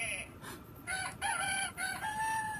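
A rooster crow plays from a children's farm animal sound book, one electronic cock-a-doodle-doo lasting about two seconds, close and fairly quiet.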